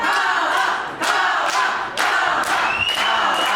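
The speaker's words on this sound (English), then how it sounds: "You can hear most of the crowd here in Festsaal-Kreuzberg tonight are pretty much unanimously in favor of Kara" Loud, roaring crowd noise fills a wrestling venue at Festsaal-Kreuzberg in Berlin, cheering for Kara with rhythmic surges roughly every half second, like chanting or stomping, plus a brief high whistle.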